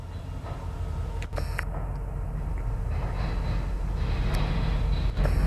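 A Norfolk Southern southbound local train with a caboose runs backwards through Marion, Ohio, making a steady low rumble and rolling noise with a few brief clanks.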